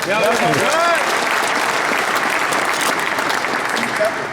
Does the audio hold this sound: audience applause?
yes